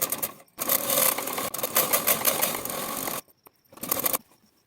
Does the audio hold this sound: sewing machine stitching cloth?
yes